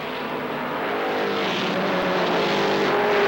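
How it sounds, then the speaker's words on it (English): ARCA SuperCar race cars with V6 and V8 engines roar continuously at Kil Kare Speedway, a loud, sustained engine blare with shifting pitch as the pack races by. "V6s, V8s, combination of the 2 in this ARCA Supercar Series field"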